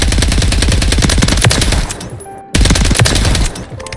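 Suppressed STG 44 fire in Modern Warfare 3 rattles out as loud, rapid sustained bursts, with a brief gap between two long strings of shots.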